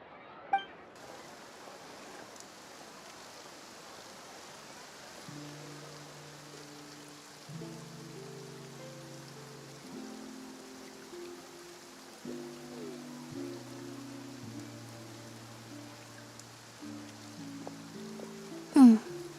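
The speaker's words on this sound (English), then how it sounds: "Looks like rain." Rain falls in the video game Genshin Impact, a soft steady patter of drops with faint clinks, heard alongside a low tonal game music score that enters partway through.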